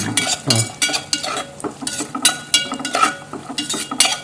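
Cashews and raisins being stir-fried in a hot pan, rapid repeated scraping and clinking of a metal spoon against the pan over a light sizzle, close and fairly loud.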